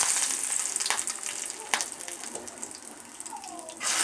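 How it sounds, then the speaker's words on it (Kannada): Mustard seeds and curry leaves crackle and sizzle in hot oil, with steady broadband frying hiss and a few sharp pops, close and fairly loud throughout. "ಸ್ವಲ್ಪ ಎಣ್ಣೆ ತಕ್ಕೊಂಡು ಎಣ್ಣೆ ಬಿಸಿ ಆದ ನಂತರ ಸಾಸಿವೆ ಹಾಕಬೇಕು"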